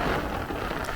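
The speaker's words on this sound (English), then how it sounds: "You hear that rain, guys" Heavy rain pours onto a Brooklyn street in a dense, steady hiss, loud and close with no pauses, and no voices over it.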